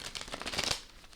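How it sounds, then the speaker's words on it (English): A deck of tarot cards is shuffled close by, a brief riffling flutter of cards lasting about a second, with no talk over it. "I'm going to shuffle this a couple more times"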